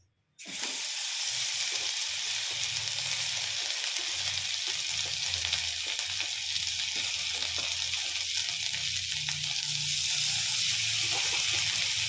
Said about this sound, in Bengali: এই যে মাখন দিয়ে দিলাম, এটাকে পোড়ালে চলবে না। এর মধ্যে আমি এবার একটু রসুন বাটা দিয়ে দেবো।